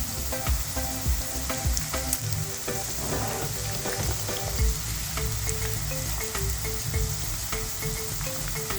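Avarakkai pakoda deep-fry in hot oil, a dense, continuous bubbling sizzle with scattered crackles and occasional stirring or turning sounds, close and fairly loud with no voices.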